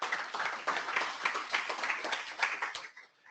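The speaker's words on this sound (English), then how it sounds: "So a round of applause to that team" Applause from the audience at a company meeting, a dense patter of many hands clapping at a steady level for about three seconds, then fading quickly at the end.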